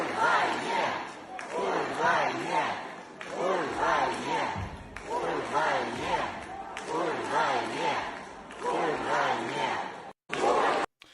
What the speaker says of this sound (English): this entire crowd is united in chanting out these anti-war slogans